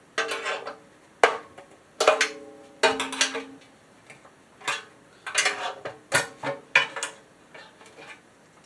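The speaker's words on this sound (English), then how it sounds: "I'm now taking apart the sleighs on the vacuum." Metal parts of a 1940s Electrolux Model XXX vacuum cleaner being taken apart, with repeated clinks, ticks and rattles of small pieces being handled in bursts, close up and fairly loud, with no talking.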